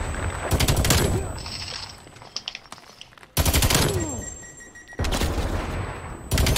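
Rapid automatic gunfire in a first-person shooter video game, loud bursts of firing broken by short gaps, with game sound effects around them.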